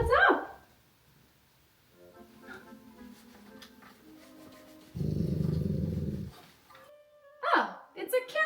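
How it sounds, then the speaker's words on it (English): A dog growls low and steady at a television for over a second in a quiet cozy winter room, amid faint background sound from the TV and brief human vocal sounds at the start and end. "Indy's growling at the TV"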